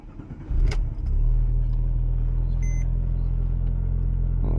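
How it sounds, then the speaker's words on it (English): A Porsche 997's engine cranks briefly and catches, then settles into a steady, loud low rumble that carries on to the end, close by with no talk. "let's actually fire the car up before we do that"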